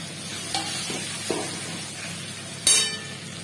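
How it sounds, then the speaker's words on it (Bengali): Ginger and garlic sauté in a pan for prawn malai curry, a faint steady sizzle broken by a few stirring scrapes and a sharp clink of utensil on the pan near the end. "তার মধ্যে আমি কিছুটা আদা রসুন দিয়ে অল্প একটু কষিয়ে নিলাম"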